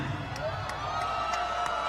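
A crowd at a fight-night event cheers the fighters with a steady roar of voices and whoops, underneath a commentator's speech.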